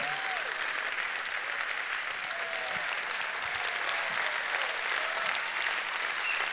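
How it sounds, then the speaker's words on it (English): An audience at a Sheffield Wednesday 150th anniversary evening at Ponds Forge applauds former players, the steady, dense clapping holding at full level throughout with a faint murmur of voices beneath. "Do give them the applause that they deserve, please"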